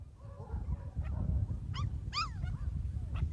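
Five-week-old puppies whimper and let out high, rising yips, several short cries scattered over a low rumbling background, close by and moderately loud.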